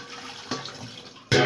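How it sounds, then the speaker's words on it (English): A filter is rinsed under a running tap, with a steady stream of water splashing, a brief surge partway, then a sudden louder gush at the end. "So rinse it again, rinse it very well."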